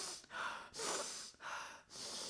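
A voice imitates heavy nasal breathing, four loud rhythmic snorting breaths through the nose in an even in-and-out pattern, close and alone.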